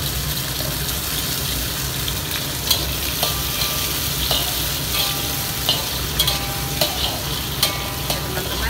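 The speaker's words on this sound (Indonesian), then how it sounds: "Kita goreng, kita tumis bumbunya agar wangi." Spices and green chili stir-frying in oil for pudina chutney, a steady loud sizzle with scattered scraping and stirring ticks from the utensil throughout.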